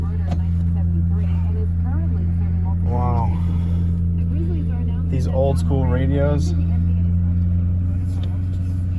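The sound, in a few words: SN95 Ford Mustang engine running, exhaust droning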